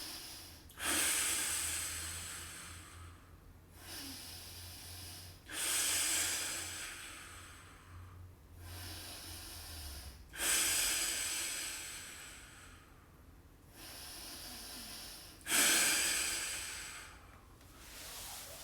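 Deep breaths taken during a shoulder stretching exercise: four slow cycles, each a strong hissing inhale or exhale followed by quieter breathing, close to the mic with no talking.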